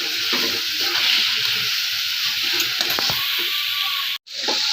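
Spicy black-eyed pea and potato curry sautés in a pan, giving a steady, bright sizzle with soft stirring scrapes. Faint speech sits underneath, and the sound cuts off abruptly near the end.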